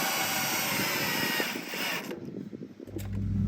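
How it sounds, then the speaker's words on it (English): A power drill with a right-angle attachment drives 2-inch screws with washers into a 6x6 mailbox post, whirring loudly and steadily before the pitch shifts and a deeper hum takes over near the end. "I use a right angle drill bit attachment along with the same 2-inch screws and a washer to make this super quick"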